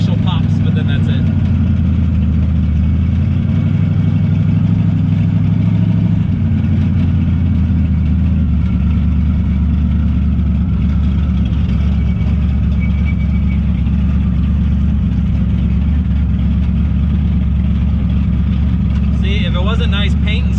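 A twin-turbo 1969 Camaro engine idles loud and close, a steady deep rumbling burble throughout with someone talking over it.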